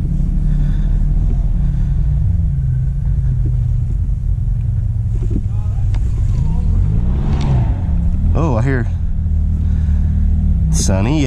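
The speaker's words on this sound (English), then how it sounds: "I know that wide open throttle." An off-road vehicle on a rough trail rumbles loudly and continuously, with its engine pitch climbing and falling as it revs, while people talk over the noise.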